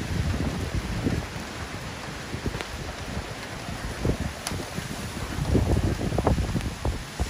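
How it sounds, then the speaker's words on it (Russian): Strong autumn wind blowing outdoors in Irpin, a steady broadband rush with buffeting gusts against the microphone, swelling louder toward the end, with no voices. "Сильный ветер."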